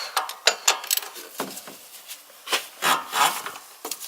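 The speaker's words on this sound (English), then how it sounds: "17mm socket, long extension. This is how easy it is. When I get the ratchet in the right place." A ratchet with a 17mm socket on a long extension clicks and grinds in close, uneven bursts as it loosens the oil filter on a Polaris RZR 570 engine, producing scraping, rubbing clatter throughout.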